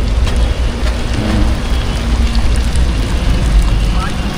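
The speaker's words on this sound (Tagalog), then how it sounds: "Inabutan na po kami ng ulan." Steady rain falls outdoors at a seafood digging site, a dense, continuous hiss with scattered drops, loud and close, while people talk over it.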